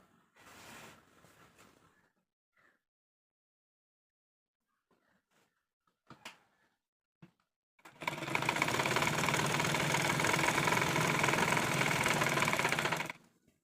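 A sewing machine double-stitching a kids' dress runs in one loud continuous whirring burst of about five seconds, after faint handling noises and a short murmur of voice at the start.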